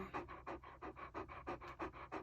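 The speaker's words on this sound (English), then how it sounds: "Heavy breathing." An American Bulldog mother nursing newborn puppies in a warm room pants heavily, about ten quick, rhythmic breaths in two seconds, close by but fairly soft.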